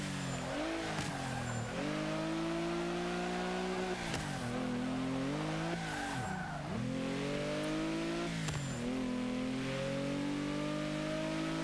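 A 2013 Mercedes-Benz G 65 AMG, a twin-turbo V12 off-roader, in Forza 5 revs and accelerates hard and continuously, its loud engine tone climbing and dropping repeatedly through gear changes with brief tire squeals.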